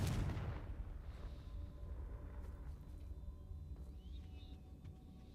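A Confringo fire spell bursts in Hogwarts Legacy: one loud, close blast at the start, then a long low rumbling decay that hangs beneath faint crackles.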